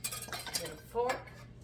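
A fork stirring plain banana muffin batter in a bowl, clinking against the sides in a few quick, close metallic taps and scrapes, then a brief louder clatter before it trails off.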